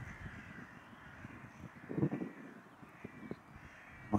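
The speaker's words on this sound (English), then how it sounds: "Look how many crows there are now." Several crows caw on a beach, harsh repeated calls from a few birds at moderate distance over a soft, steady background of wind and surf.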